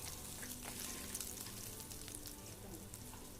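Ginger and garlic sautéing in hot oil right after mustard seeds, a steady close sizzle and crackle with faint stirring throughout, no voices.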